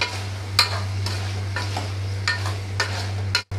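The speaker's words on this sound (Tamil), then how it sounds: "இதை நல்லா வதக்கிக்கலாங்க." Crab and chicken masala sautéed and stirred in a pan, a soft continuous sizzle with a handful of scraping stirs at irregular intervals over a low steady hum.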